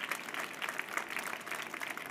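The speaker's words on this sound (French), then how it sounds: "On peut l'applaudir." An audience at a departmental final of a children's reading contest applauds a jury member, a dense, steady patter of many hands clapping throughout, moderately distant and without speech.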